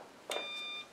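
Eaton 3S 700 UPS giving its final beep: one clear electronic tone lasting about half a second, steady and fairly close, with no talk over it.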